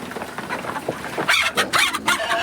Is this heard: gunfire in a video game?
no